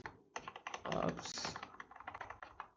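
Computer keyboard typing in short, quick bursts of key clicks, close and fairly quiet, with faint talk in the background.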